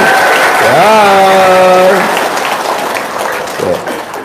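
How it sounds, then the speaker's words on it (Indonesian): An audience at a seminar gives another round of applause, a steady crackle that fades gradually while a voice speaks over it early on. "Sekali lagi tepuk tangan."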